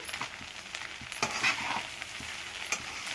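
Cooked rice and vegetables for fried rice are stirred together in a hot pan: a gentle sizzle under repeated scraping strokes and light clatter, close and fairly quiet, with no voices.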